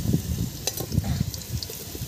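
Potatoes seasoned with salt and turmeric frying in a pan for a village-style chicken handi, a close, busy sizzle with bubbling and stirring clatter, no talking.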